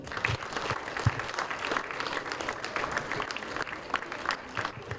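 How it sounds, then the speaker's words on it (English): An audience claps at a junior championship awards ceremony, dense continuous applause from a crowd held at an even level for the whole stretch, with faint voices mixed in. "We need to clap for them."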